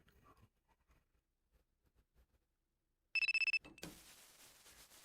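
Telephone ringing in VRChat, a loud electronic ring pulsing rapidly for about half a second after near-silence with faint footsteps, followed by a hissy noise.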